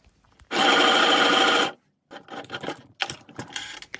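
Sewing machine stitching patches onto a denim vest, a loud continuous whir of about a second, then quieter intermittent clicks and handling noises after a brief pause.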